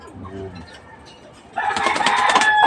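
Pigeons peck at grit stones: soft cooing and low bird calls, then a burst of busy pecking and clattering on stones. A person talks over the birds.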